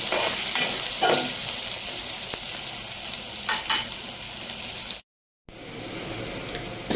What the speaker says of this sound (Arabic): بصل مخرط بحطه هنا عشان طبعا ايه، وهنحمره